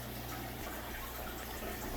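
Water drains from aquarium fish tanks in a fish room, a steady continuous rushing flow with no pauses.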